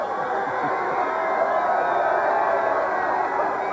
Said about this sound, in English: One last cheer from the hardcores down here.